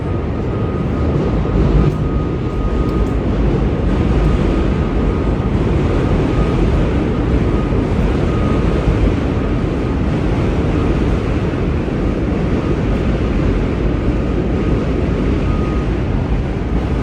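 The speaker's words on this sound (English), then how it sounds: "those trains, they come every 2 seconds" A steady, loud rumble of trains passing in Brooklyn, New York at night with broadband roar and a faint tonal hum, continuous throughout with no voices.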